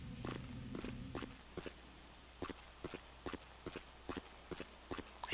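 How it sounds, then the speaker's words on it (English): Footsteps in the video game Vampire the Masquerade Bloodlines, a steady series of hard, evenly paced steps, quiet and a little distant, following a brief low hum at the start. "I hear footsteps."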